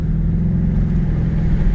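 2008 Dodge Challenger SRT8 V8 engine accelerating on a straightaway, a loud steady low roar heard from inside the car.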